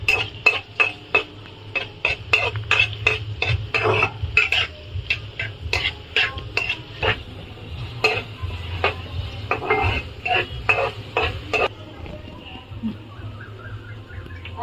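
Onion sautéed and stirred in a pan while cooking mixed vegetables for biryani, with a steady run of sharp scraping spoon strokes against the pan over a low sizzling hum.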